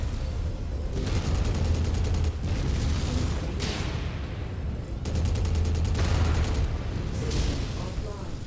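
PPC weapons on a Warhammer mech firing at a Griffin in MechWarrior 5, heavy crackling energy bursts and booming impacts that come in two long waves, loud and dense, with faint talk.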